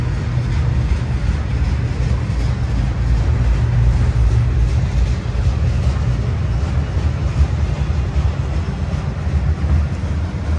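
A heavy Norfolk Southern eastbound freight train rumbles past nearby at Cresson, Pennsylvania, a loud continuous low roar with steady rolling noise that holds throughout.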